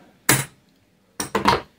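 A drill bit is tapped into a wooden flattening and milling jig: one sharp knock, a pause, then two or three quick clustered taps, close and crisp with no talking.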